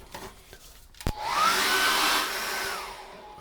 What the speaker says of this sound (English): Now I'm going to dry that very quickly again with a hairdryer